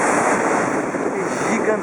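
Salto Grande waterfall at Corupá, more than 100 metres tall, roars as a steady, loud broadband rush of falling water, filling the whole moment without a break.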